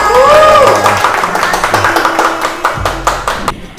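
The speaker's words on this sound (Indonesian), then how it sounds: "Tepuk tangan." Scattered hand claps from a small group, loud and close, with a hum of voices and background noise underneath.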